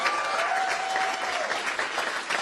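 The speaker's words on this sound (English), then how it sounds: "Can we give another round of applause, please, for Zoe Lofgren and all of the speakers before us today?" A crowd at a California Democratic political rally claps steadily in a brief burst of moderately loud applause, with a faint tonal whine running beneath the clapping.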